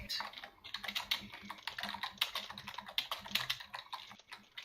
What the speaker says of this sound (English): Okay, and stop typing.